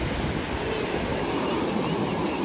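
Sea waves wash onto a beach at sunset in a constant broad roar, loud and unbroken like surf mixed with wind rush, with no clear voices.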